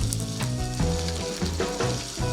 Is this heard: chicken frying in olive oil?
yes